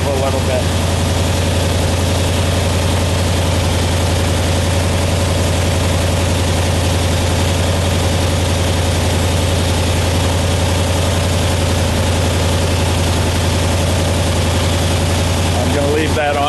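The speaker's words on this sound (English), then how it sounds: "you'll hear the engine rev a little bit" A 1976 Corvette restomod engine idles steadily and loudly up close with a constant low drone and vibration as a vintage A/C system is charged, the tone shifting slightly near the end; no voices.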